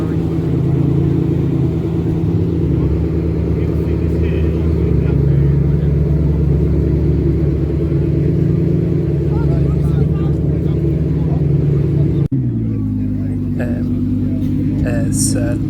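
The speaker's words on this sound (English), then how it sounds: "There's Lamborghini." A Lamborghini drives past at the Goodwood Breakfast Club car meet: a loud, deep engine rumble that drops and shifts in pitch near the end as the car goes by, with voices mixed in.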